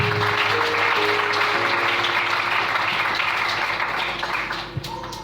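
A church congregation applauds and cheers for the Lord during a French-language sermon, steady dense clapping filling the room for about five seconds before thinning out near the end, with a few voices rising through it.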